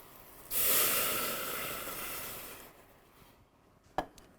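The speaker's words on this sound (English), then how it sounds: "I'm going to add 2 cups of stock to our onions" Two cups of stock hit a pot of cooking onions with a sudden loud hiss that slowly fades into a softer simmer, followed by a single sharp clunk near the end.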